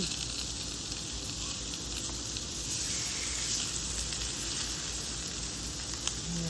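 Red drum fillets sizzle skin side down on a hot Blackstone griddle, giving a steady close hiss and crackle that runs on its own without a break.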